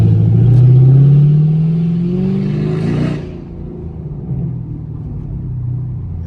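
A 2016 Chevrolet Camaro SS V8 running catless revs under throttle, the deep engine note rising in pitch for about three seconds before dropping back to a rumbling idle, close and loud.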